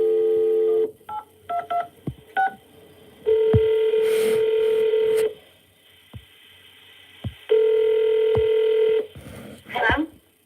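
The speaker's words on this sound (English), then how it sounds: "we're gonna call her right now, see if we can get her on the phone" A telephone being dialed to place a call: bursts of keypad tones in quick succession, steady dial-type tones and a brief click near the end, loud and close with no talking.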